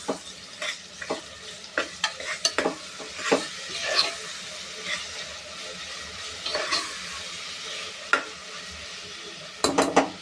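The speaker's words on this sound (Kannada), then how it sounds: "ಶುಂಠಿ ಬೆಳ್ಳುಳ್ಳಿ ಪೇಸ್ಟ್ ಹಾಕ್ತಾಯಿದ್ದೀನಿ. ಈಗ ಅದು ಹಸಿ ವಾಸನೆ ಹೋಗೋ ತನಕ ಹುರ್ಕೋಬೇಕು, ಫ್ರೈ ಮಾಡಿ ಕ್ಲೀನಾಗಿ." Ginger garlic paste frying in a pan, an even sizzle broken by frequent sharp scrapes and taps of a spatula stirring it, close and with no one talking.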